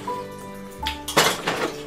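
A metal spoon clinking against dishes, a few quick bright clinks and rattles up close after a short quiet tonal stretch, with no talking.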